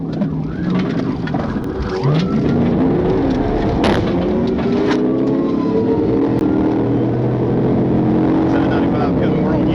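Motorcycle engine revving hard during a police chase, its pitch sweeping up and down through gear changes, close and loud, with siren-like tones and faint voices underneath.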